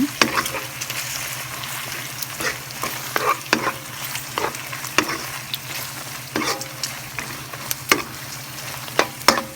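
Lao rice noodles are stir-fried in a pan, a steady close sizzle broken by frequent scraping and tossing knocks of the utensil against the pan, with no talking.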